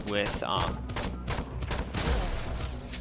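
Rifle gunfire in the zombie game Dead Island: Epidemic, a run of sharp bursts over continuous game noise while someone comments over it.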